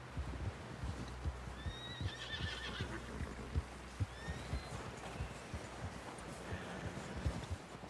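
Horses in Red Dead Redemption 2 neigh and whinny twice in the middle, with steady hoof clip-clop throughout and a busy, close outdoor scene beneath.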